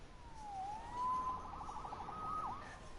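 A police siren from the Spider-Man PS4 video game wails and yelps at a moderate distance, its pitch sweeping up and down over a faint background hum.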